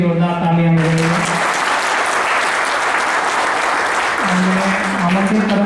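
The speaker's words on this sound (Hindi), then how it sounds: "उनके लिए भी जोरदार तालियां बजाइए" Sustained applause from a crowd at a 2023 wage agreement event in Mandideep, steady clapping throughout, with a voice speaking briefly in Hindi at the start and again near the end.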